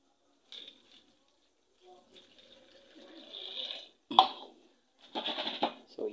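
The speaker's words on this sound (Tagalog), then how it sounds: "Lagyan natin ng tubig." Mineral water pours into a container of ampalaya seeds for soaking in short intermittent bursts, close by and fairly quiet, with brief pauses between pours.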